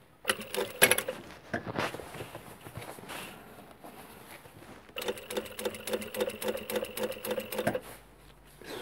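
A sewing machine stitching in bursts, its rapid mechanical clatter starting and stopping, with a longer continuous run in the second half and occasional handling knocks between runs.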